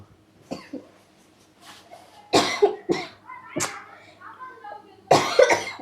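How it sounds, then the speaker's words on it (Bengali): Several sharp coughs burst out close by in irregular succession, with quieter vocal sounds between them. "কখন থেকে সে কাশতেছো? বাইরে গিয়ে কাশতে পারো না?"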